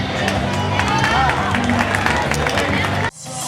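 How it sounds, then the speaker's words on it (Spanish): A summer festival crowd at the Falla Platja in Pobla de Farnals applauds and cheers for Vicente after his raffle win, a dense, loud clamour of claps and voices that cuts off abruptly near the end. "Un aplauso para él"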